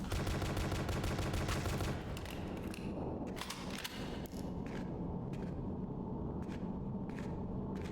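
Gunfire in the horror video game Dread X Collection, sharp repeated shots and thuds over a dense, noisy game soundscape, fairly steady and moderately loud.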